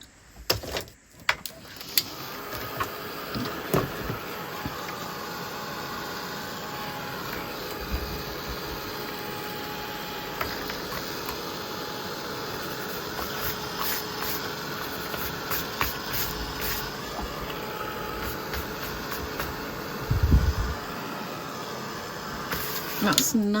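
A heat tool dries paint on an art journal page, giving off a continuous whirring blow with a faint tonal hum for about twenty seconds. A short clatter comes near the end.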